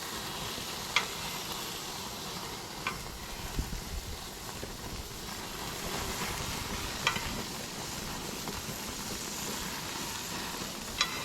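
Steak sizzles in a butter bath over flames, a soft, steady frying hiss with a few sharp little pops and clicks scattered through, fairly quiet, with no one talking.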